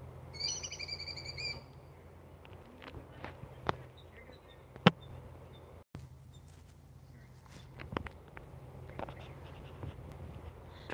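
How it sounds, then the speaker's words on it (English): Birds calling outdoors on a quiet Sunday, faint chirps and whistled notes at a distance over low background hum, with soft scattered clicks and taps. "We got some birds going out."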